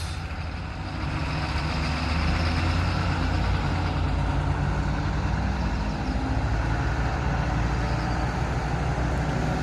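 Swiss PostBus bus pulling out of Bern station, its engine a steady loud rumble throughout, with broadband road and station noise around it and no talk.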